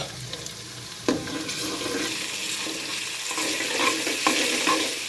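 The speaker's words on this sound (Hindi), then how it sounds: "अब मैं डालती हूँ इसके अंदर लहसुन अदरक का पेस्ट" Garlic-ginger paste sizzles in hot oil with onions as it is stirred, a steady close hiss of frying with scraping strokes and a few knocks of the spoon against the pan.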